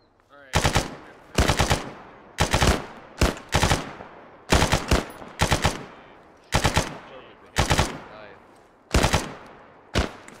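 Bursts of automatic gunfire as a team returns fire in a firefight outside a town, about ten loud rapid volleys in a steady rhythm with short gaps between them, no talking over them.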